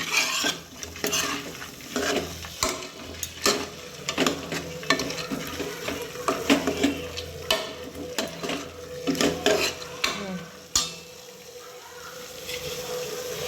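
Hitikida avare beans are stirred and fried in a pan for a village-style Karnataka sambar, giving a busy run of scraping spoon strokes and clanks against the pan over a soft, steady sizzle.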